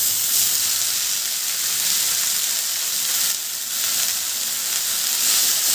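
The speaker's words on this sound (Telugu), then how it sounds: "ఇది మళ్ళీ ఆయిల్ వేసుకుందాం అండి. చింత చిగురు వేసేసుకుందాం ఇందులోకి." Tender tamarind leaves hiss in hot oil in a pan over a low flame, a loud, steady sizzle that continues unbroken from start to finish, with no voices.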